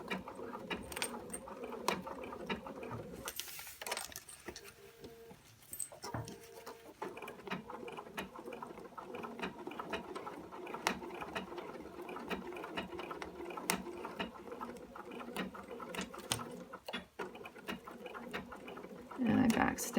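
Steady mechanical clatter of a sewing machine topstitching and backstitching around the front zipper of denim jeans, continuous and close with small ticks and shifts in pace, faint low noise beneath.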